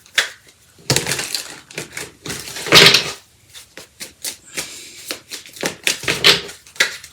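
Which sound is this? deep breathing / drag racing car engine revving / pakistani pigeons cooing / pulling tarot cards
pulling tarot cards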